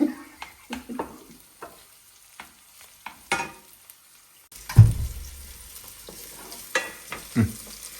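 Petchay cooking in a pan, with scattered clicks and knocks that give way to a louder burst of sizzling and stirring clatter, close and without speech.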